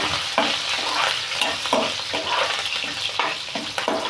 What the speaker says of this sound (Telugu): ఇట్లా మొత్తం వేగాలి. చిన్నుల్లిపాయ రెబ్బలు, పచ్చిమిరకాయలు పోపులు.